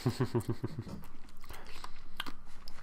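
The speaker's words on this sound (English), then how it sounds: "Just made a crunch." Close, crisp crunching of food being chewed, several quick bites in a steady rhythm at the start that fade into quieter room noise.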